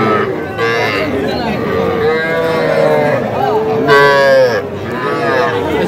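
Young heifer calves mooing at the Aftabganj cattle market, with repeated drawn-out moos close by over a steady murmur of crowd voices.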